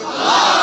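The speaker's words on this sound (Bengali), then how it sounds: "আল্লাহু আকবার জোরে কর।" A crowd at a religious sermon gathering roars the takbir chant loudly in unison, a dense, rising wall of massed voices close by.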